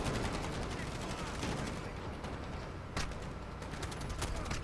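Rapid automatic gunfire in the video game Modern Warfare Special Ops, a dense, loud rattle of shots with a few sharper bursts, partly overlapped by a voice.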